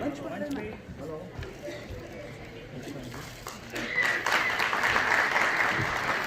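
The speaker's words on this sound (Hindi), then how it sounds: "जोरदार तालियों के साथ स्वागत की इस कड़ी में उत्साह बनाए रखें" Audience applause at an education awards and honours ceremony as guests are welcomed onto the stage, a broad wash of clapping that swells louder in the second half, with voices and crowd murmur underneath.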